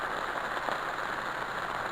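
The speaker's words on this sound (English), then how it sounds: "And the rain picked up more." Steady rain patters on a tarp stretched over a tent at a bushcraft shelter, a dense, even hiss with no breaks, close and moderately loud throughout.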